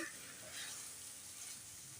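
Steady frying sizzle of chicken sautéing in an open pan, a constant hiss with occasional stirring, continuous and fairly close.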